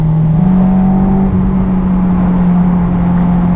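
Honda S2000 engine droning at a steady, loud hum from inside the car on a foggy, damp mountain touge road, one sustained even tone with road rumble beneath and no talking.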